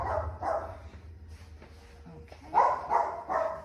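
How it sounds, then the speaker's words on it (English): A dog barks from upstairs in a few muffled bursts, a pair at the start and a cluster near the end, while a person briefly speaks nearby. "My dog is very upset upstairs."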